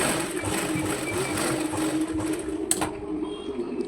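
A sewing machine runs steadily, stitching close along the edge where a sleeve meets its lining, a continuous mechanical whir with one brief sharp click near the end.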